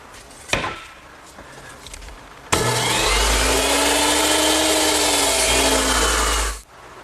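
A handsaw cuts a wooden rail held in a miter box, one sustained, loud, close rasping stroke sequence lasting several seconds after a few light knocks, then stopping abruptly.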